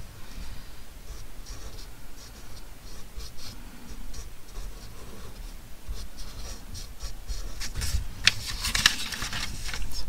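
A pen scratches across paper while freeform flowers are drawn, with continuous close scratchy strokes and small ticks, steady throughout and with no voices.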